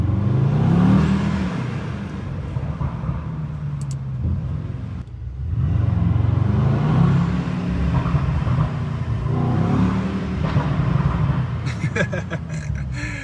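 A Brabus GT900 Rocket 1/10 scale RC car revs and accelerates with a steady electronic engine-sound drone that rises and falls in pitch, swelling again after a brief dip, with someone talking over it.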